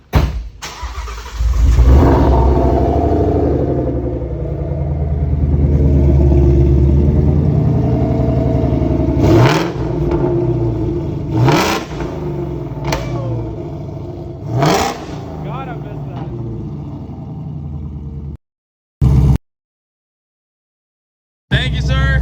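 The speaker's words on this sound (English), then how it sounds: "Go on, start her up. And we made her louder, so give her maybe a rev or two." The Whipple-supercharged Mustang GT cranks and catches with a loud, rumbling idle, then gives several sharp revs under brief voices before the sound cuts out.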